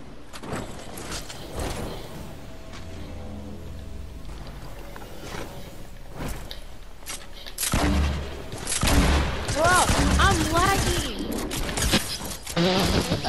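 Gunfire from shooting at an opponent in Fortnite Battle Royale, with several sharp shots scattered through busy game sound, growing louder and denser toward the end.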